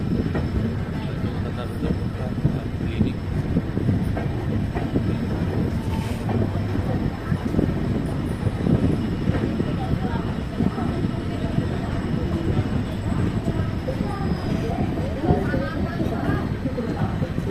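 Passenger train, the Dehradun Kathgodam Express, rolling into Lal Kuan junction with continuous rumble and rattle of wheels and carriages, wind buffeting, and voices talking over it.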